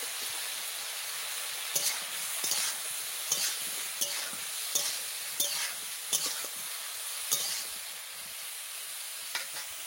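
Eggplant fries in a pan with turmeric and salt, a soft, steady sizzle broken by regular scraping stirs roughly every half second to second, fairly quiet, with no talking.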